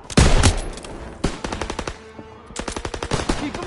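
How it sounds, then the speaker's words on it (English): Machine guns rattle in Call of Duty WW2 in rapid, loud bursts separated by brief pauses, close and dominant with no talking. "MGs, open fire."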